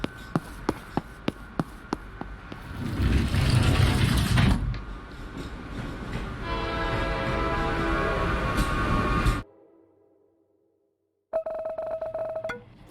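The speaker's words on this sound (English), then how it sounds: "it's like you're boarding the subway" A subway train pulls into a station in a video game: a run of rhythmic clicks gives way to a loud mechanical rumble and a screeching, tonal rail whine, then a sudden silence before a steady hum resumes.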